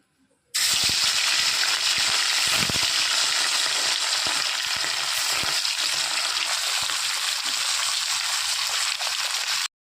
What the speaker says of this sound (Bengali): ওই তেলেই বাদবাকি মাছগুলো আমি ছেড়ে দেবো।